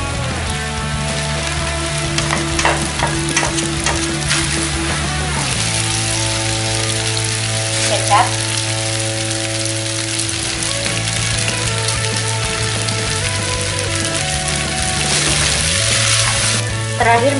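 Kwetiau flat rice noodles with beef stir-fried in a hot pan, giving loud, continuous sizzling under a steady burner roar, broken by repeated scraping and tossing strokes, with no talking.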